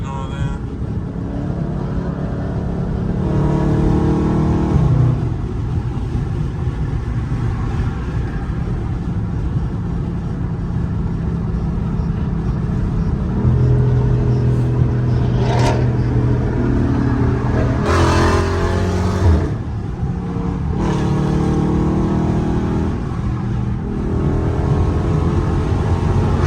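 Two Dodge Scat Pack cars on a highway, engines droning loudly and repeatedly revving up through paddle-shifted gear changes, with sharp rising surges and wind roar from inside the cabin.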